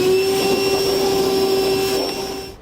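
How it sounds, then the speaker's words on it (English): A vacuum cleaner whines loudly and steadily up close as it sucks cut debris out of the bed liner of a 2017 Ram pickup truck, then starts to wind down at the end. "We'll just vacuum up all of our bits here from the bed liner."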